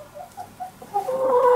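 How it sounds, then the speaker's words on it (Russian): Backyard chickens and roosters at drinking time cluck in short, close, repeated calls that build into louder overlapping clucking toward the end. "Пейте, пейте, петушки."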